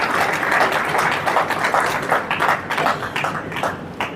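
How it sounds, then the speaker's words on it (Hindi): Audience at a business gathering applauding loudly, dense rapid hand claps sustained throughout, close and steady with slight swells. "हम सब लोग जोर के तालियां बजाएंगे उन साथियों का जो गुड़गांव से बाहर हमारे बीच में आए हैं"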